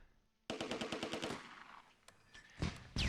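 Rapid burst of automatic gunfire from an 88mm gun in the WWII strategy game Close Combat II, a dense rattling string of shots, then scattered single cracks and a few louder blasts toward the end.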